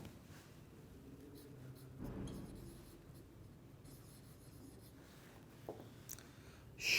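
Marker or chalk writing on a board during a chemistry lecture, soft scratchy strokes coming in short bursts, fairly faint against room noise with no voice.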